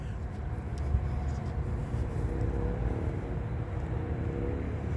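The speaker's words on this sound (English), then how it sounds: "And there's traffic all around" Steady, fairly loud rumble of road traffic near the Schuylkill River Trail by Route 422, a continuous low wash of passing vehicles with no voices and no distinct individual passes.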